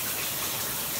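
Water gushes steadily from a shower tap over hands being washed, a continuous close, even rush of spray with no pauses.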